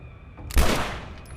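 A single loud, close gunshot blast rings out in The Last of Us gameplay, with a sharp hit and a decaying tail that fades over about a second.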